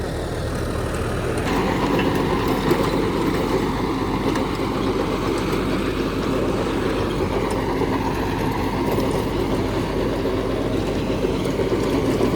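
A four-wheel-drive tractor engine labours steadily while pulling a 10-foot rotavator loaded with soil-filled sacks through a field, giving a loud, continuous drone with no break throughout.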